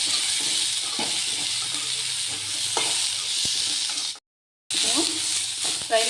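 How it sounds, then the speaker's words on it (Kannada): Ginger, garlic and coriander lightly frying for a chicken gravy hiss in a loud, steady, close sizzle that breaks off for a moment and then resumes, with no voices over it. "ಆಮೇಲೆ ಶುಂಠಿ, ಬೆಳ್ಳುಳ್ಳಿ, ಕೊತ್ತಂಬರಿನ ಇದರಲ್ಲಿ ನಾನು ಸ್ವಲ್ಪ ಲೈಟಾಗಿ ಫ್ರೈ ಮಾಡ್ಕೊತೀನಿ"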